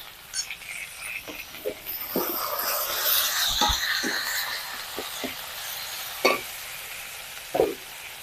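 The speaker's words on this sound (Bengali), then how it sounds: "টমেটোটা ভালো করে কষে নিই" Tomato, ginger-garlic paste, salt and turmeric sizzle and crackle in hot oil, with a stirring scrape and several sharp clinks of a spoon against the pan.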